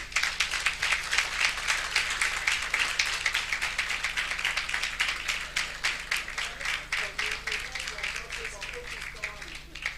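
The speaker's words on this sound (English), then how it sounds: "This young man, please applaud him for me." Wedding guests clap for a young man, a brisk crowd applause with rapid overlapping claps that thins toward the end, while voices murmur faintly underneath.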